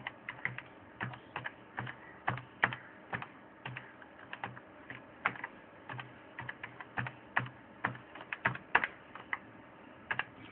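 Someone types a Gmail ID on a computer keyboard, a steady run of close, crisp key clicks in uneven bursts with no voices.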